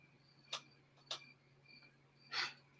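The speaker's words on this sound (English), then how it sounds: "And listen to the crickets. Such wonderful crickets." Three short, bright chirps spaced about half a second apart, then a longer buzzy burst, faint against a quiet night hum.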